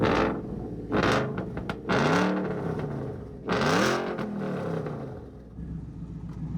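A car engine revving in several bursts, rising and falling whine with mechanical creaks between, fairly close.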